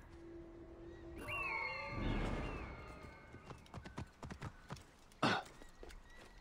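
Horse hooves clip-clop in Assassin's Creed Origins, a quiet run of light, even taps that grows more distinct toward the end, closing with one sharper knock.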